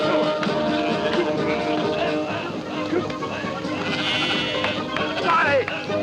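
Sheep bleat repeatedly on an Australian sheep station while animals are driven through, a steady farmyard din with overlapping cries and voices in the background.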